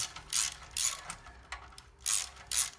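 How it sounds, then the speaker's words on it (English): An Allen wrench ratchets a bolt loose on a Yamaha MT10 exhaust link pipe, five or six short, quiet bursts of clicking separated by brief pauses, close by with no talk. "You just want to drop your Allen wrench on there."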